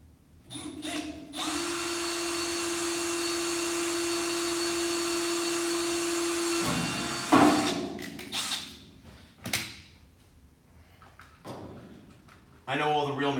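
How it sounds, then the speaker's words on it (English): Power drill boring a witness hole at a workbench during a bench vise install, a steady loud whir running several seconds before stopping, followed by clunks and handling noises with voices talking. "We'll drill this witness hole."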